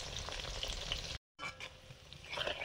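Boneless chicken pakoras frying in hot oil sizzle and crackle steadily, close and fairly faint, with a brief drop-out partway through.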